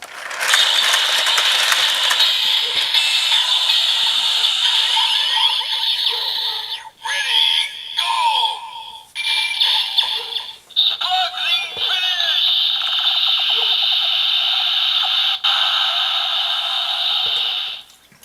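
Kamen Rider Build Rabbit Tank Sparkling DX toy triggering its vortex finish: a loud electronic barrage of whirring, ratcheting and shrill synthesized effects, briefly broken by clicks and pauses midway, then a long sustained tone before cutting off.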